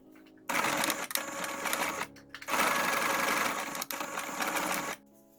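Sewing machine running a zigzag stitch on ribbon, two loud close bursts of fast whirring stitching separated by a short pause, with brief quiet gaps at the start and end.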